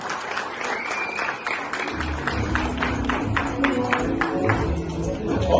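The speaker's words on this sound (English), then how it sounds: "Give it a big round of applause." Audience applause at a corporate awards event, steady clapping from a crowd that swells and grows fuller partway through, with some cheering mixed in.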